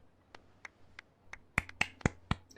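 A weak crowd applauds in the Genshin Impact video game: a handful of sparse, light claps that pick up into a few louder, sharper ones. There is no talk.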